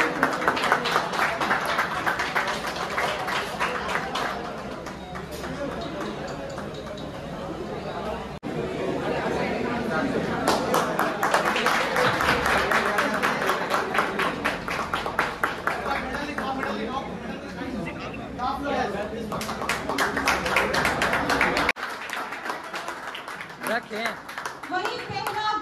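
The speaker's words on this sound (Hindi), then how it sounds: "तालियां बजाइए मैम" Spectators clap at a deadlift championship awards moment, scattered hand claps mixed with busy chatter and voices, swelling and fading with a brief drop near the end.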